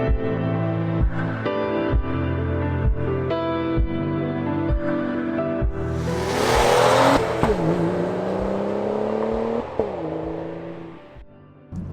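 A 2011 BMW 335i E90 sedan engine revs up and accelerates on a drive, its pitch climbing through gear changes, loud and close, with a rushing surge in the middle.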